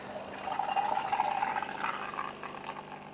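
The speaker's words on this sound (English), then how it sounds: "I think we should test a little bit of frothing." A Delonghi Magnifica coffee machine froths milk in a jug, giving a close, steady hissing and gurgling that swells briefly and then softens toward the end, with no voices.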